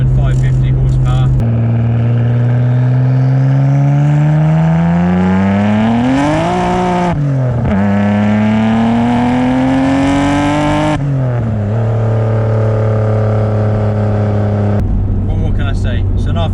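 A tuned Nissan Skyline R32 GT-R of about 500–550 horsepower revs hard close by, its engine and exhaust climbing and falling through several loud pulls, with a deep harmonic drone throughout and no talk over it.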